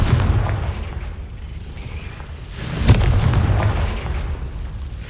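Confringo blasting curse in Hogwarts Legacy, a single booming explosion rising out of a dense rumbling game soundscape and fading back into it.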